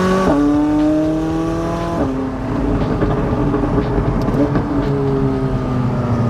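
A loud car engine rumbles and revs, pitch climbing then dropping as it shifts, deep and close throughout.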